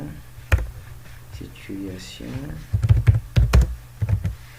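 Keys clatter on a computer keyboard while a form is being built in HTML5. Short bursts of clicking typing come close and fairly loud, mixed with a person speaking in between.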